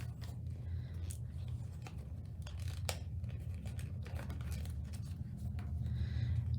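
Paper being folded and tucked into an origami bookmark, with soft, close crinkles and creasing scrapes over a steady low room hum.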